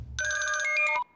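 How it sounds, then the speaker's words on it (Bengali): A telephone ringtone in a dubbed Bangla action film, a bright electronic melodic ring lasting about a second after a brief low rumble, loud and alone with no talk. "এসিপি রমেশকে ফোন করো।"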